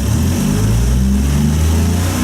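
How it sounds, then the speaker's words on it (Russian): A Toyota 1JZ-GTE engine revs up briefly under a blip of the throttle, a loud, close, rising engine roar over the idle, with no voices. "То есть как только сейчас, по идее, я должен газануть,"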